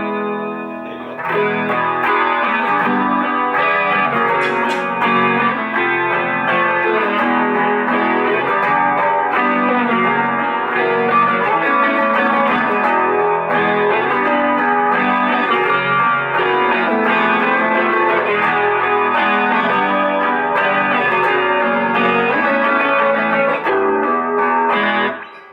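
Electric guitar played through a Roland Street EX amplifier with light chorus and reverb, a continuous strummed and picked passage with shimmering modulation, steady and loud throughout with no talking.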